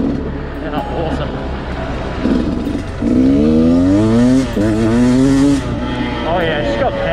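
A 2019 Beta 200RR two-stroke enduro motorcycle revving up through its rev range, its engine rising in pitch in a few loud, close pulls while someone talks over it.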